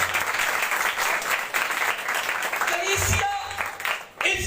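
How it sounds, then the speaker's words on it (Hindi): A church congregation clapping during a sermon, dense sustained clapping filling the space before it thins out, with a short voice and other sounds breaking through near the end. "ताली मार दो"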